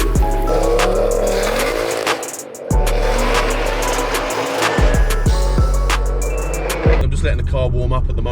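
A 500 hp Ford Focus RS Mk2 with K-Sport front brakes and coilovers warming up, its engine idling with a deep, loud, steady rumble close by, a few brief revs and clunks, and a voice talking over it.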